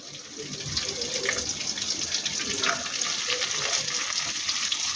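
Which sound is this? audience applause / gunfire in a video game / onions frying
onions frying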